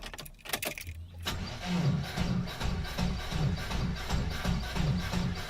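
Keys jangle and the ignition turns before a car engine, started from a power bank, cranks and catches, settling into a rhythmic, pulsing run heard nearby.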